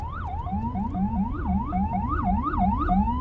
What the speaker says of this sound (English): maybe we should wait till the ambulance passes